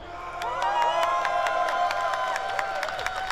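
A crowd at a gaming expo stage at Comic Con Baltics cheers and shouts for Team Lithuania, a sustained roar of voices with whoops and scattered claps continuing at steady loudness.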